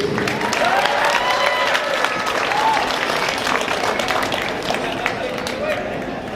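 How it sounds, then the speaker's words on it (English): Wrestling show crowd applauding a heavyweight champion: steady, fairly loud mass applause throughout, with some voices and cheers mixed into the clapping. "Big round of applause for Ryan Davidson."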